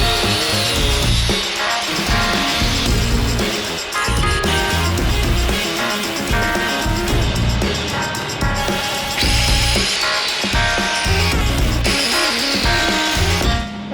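A saw cuts through a VW engine exhaust pipe in a continuous, loud grinding rasp that runs steadily with slight surges, close up and with no talk.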